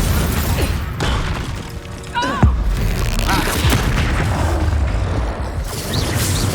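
Spell explosions from Confringo and Incendio in Hogwarts Legacy burst in a loud, dense flurry of booms, crackles and shattering impacts layered over game sounds, with no speech.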